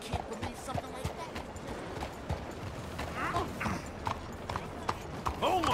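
Horse hooves clop along in a video game, a steady walking rhythm of close, distinct hoofbeats mixed with creaking and rattling tack, with brief vocal sounds in the background.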